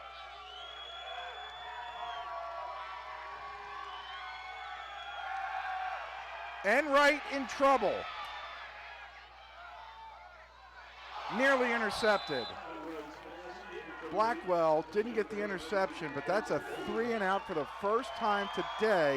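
Crowd noise from spectators at a college football game between MSUM and BSU rises into cheers and whoops, heard in the background beneath two commentators calling the play.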